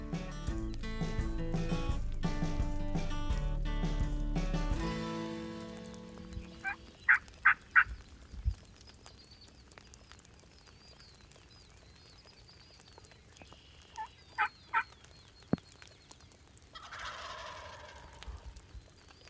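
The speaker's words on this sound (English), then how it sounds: "it wasn't long before we got them to gobble" Wild turkeys, several longbeards, gobble in short distant bursts in response to calls outdoors in Michigan, standing out against a faint background after a loud opening passage.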